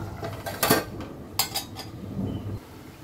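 A metal lid goes back onto a pot of mutton keema with potatoes and peas: two sharp clattering knocks of metal on metal, then a softer scrape as it settles. Close and fairly quiet, with no talking.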